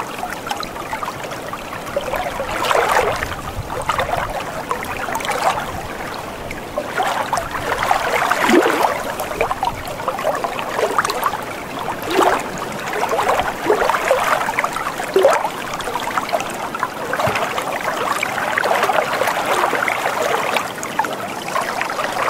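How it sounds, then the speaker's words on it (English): A river flows steadily, with close splashing and trickling water in uneven pulses and bursts over a constant wash for more than twenty seconds. "Here we are by the river."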